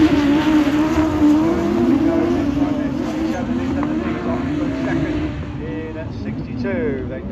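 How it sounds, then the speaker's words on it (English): Race cars lap a circuit in a Class 7 heat, engines droning steadily throughout with a sustained tone that shifts as cars pass, while a commentator talks over the top. "North Wales 86, racing ahead of Radford 69"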